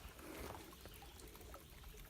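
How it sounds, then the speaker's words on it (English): A small brook trickles at a trail crossing in the Laurel Highlands, a soft, steady, faint wash of running water with light bubbling and no talking. "Little brook crossing here after mile 9."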